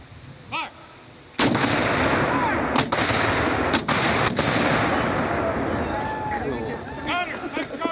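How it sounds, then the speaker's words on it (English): Cannon fire from an artillery battery at a Civil War battle reenactment marking the 150th anniversary of the Battle of Johnsonville in Tennessee: a loud blast followed by several sharp, echoing shots, with crowd noise and outdoor rumble between. "Battery, from the right. Fire on fire."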